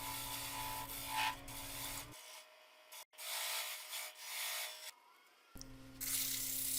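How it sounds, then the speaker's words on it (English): Sandpaper rubbing against the outside of a spinning segmented wood bowl on a lathe, a steady close abrasive hiss with the motor hum dropping out in the middle. "I sand the outside of the bowl,"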